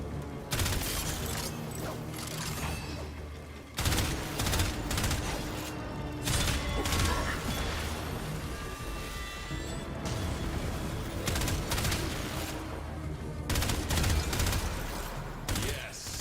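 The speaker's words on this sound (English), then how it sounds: "I have to shoot him" Gunfire in Warframe, with dense fusillade-like bursts and crashing impacts spread across the stretch and sharp loud onsets at the start and midway, set within busy game music and effects.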